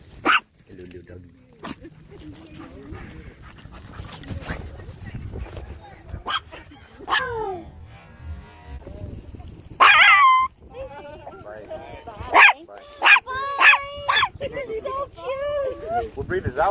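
A small Boston Terrier mix yips and barks in sharp, scattered bursts, some near and loud, with whimpers between, while people talk throughout.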